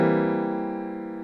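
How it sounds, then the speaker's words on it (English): A dominant seventh chord rings out once as a sustained struck chord for ear training, its notes sounding together and slowly decaying. "5-7 chord is going to sound like this"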